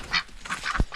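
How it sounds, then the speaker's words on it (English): Farm ducks give a few short, faint nasal quacks in quick succession outdoors, with a brief thump in between. "these ducks are gonna stay out"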